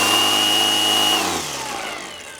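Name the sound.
Milwaukee M18 brushless string trimmer running at top speed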